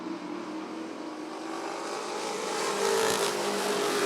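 Sportsman race cars roar steadily around the Rockford Speedway oval during an eight-lap heat race, a continuous loud engine drone that swells slightly as the pack passes near.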